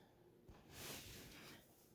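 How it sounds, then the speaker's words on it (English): A person blows their nose once in a close, quiet room, a breathy rushing burst that swells and then trails off over about a second. "I had to blow my nose really badly."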